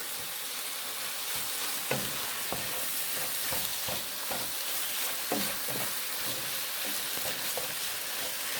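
Flour for cream of mushroom soup is stirred into a sizzling pot, a steady fry hiss broken by repeated scraping strokes of the spoon throughout, fairly close and without talk.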